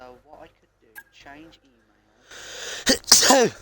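A single loud, close sneeze bursts out near the end, after a stretch of quiet indoor speech from a person talking.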